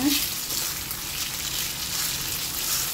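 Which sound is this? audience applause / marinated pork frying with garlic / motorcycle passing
marinated pork frying with garlic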